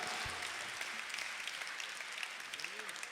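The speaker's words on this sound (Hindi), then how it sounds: "तालियां जरा बजा दो, जोरदार, मस्ती वाली, आनंद वाली।" Steady, dense audience applause fills a Hindi comic poetry recital at a kavi sammelan, continuous and fairly loud throughout, with a voice briefly heard near the end.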